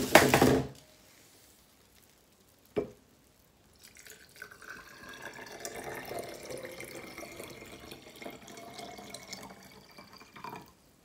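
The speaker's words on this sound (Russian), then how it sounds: "Теперь наливаем воду." Water pours into a glass jar for a space-in-a-jar craft, a soft continuous trickle and splash lasting several seconds after a few knocks and a pause.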